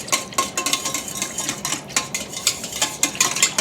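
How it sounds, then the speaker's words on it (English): A whisk swishes and clinks through eight cups of chicken stock in a pot, quick rhythmic metallic strokes against the sides, close and fairly loud. "Just kind of swish it around with my whisk there."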